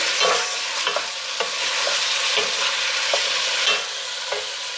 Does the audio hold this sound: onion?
yes